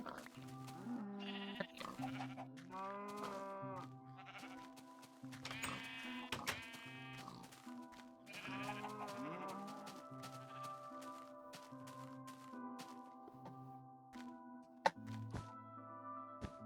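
Sheep in the Minecraft video game bleat repeatedly, several overlapping calls rising and falling over a steady synthetic background hum, with a brief thunk near the end.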